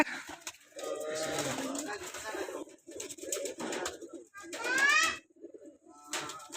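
Pigeons cooing in bursts at a home during vaccination, close and fairly loud, with gaps between calls and some background talk.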